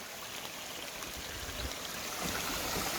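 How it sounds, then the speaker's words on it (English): Water rushing down small waterfalls and runoff streams below a big bank near the base of Mount Taranaki, a dense, steady broadband roar, close and continuous without any voices. "Water flowing everywhere."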